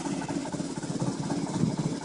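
A sailboat's diesel engine, just restarted after its fuel lines were bled, idles with a steady low rumbling throb, close and continuous with no talk.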